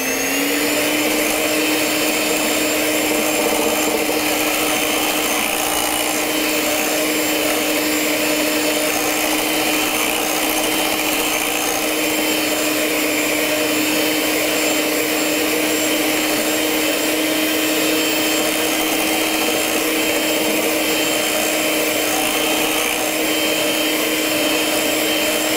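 Electric mixer beaters whip batter at a higher speed, a loud, constant motor whine with a steady pitched hum and no breaks throughout.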